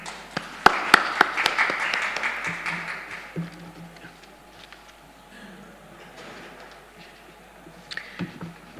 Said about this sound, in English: Dr. Barbara Kaufman, a huge round of applause for you